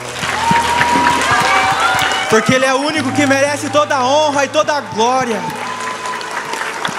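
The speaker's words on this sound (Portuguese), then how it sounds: "vamos aplaudir o Senhor?" Congregation applause at a Portuguese-language church service, a loud broad wash of many hands clapping continuously while someone speaks and sings over it through a microphone.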